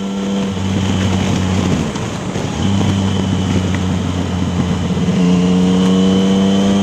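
A 2015 Yamaha MT-09 Tracer motorcycle with an Akrapovic titanium exhaust drones steadily, with engine tones that hold and then step up as it accelerates, all under heavy wind rush across the microphone.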